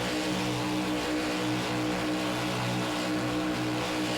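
A sim racing race car engine under throttle, a steady droning roar with layered harmonics that holds constant and loud throughout, with no voices.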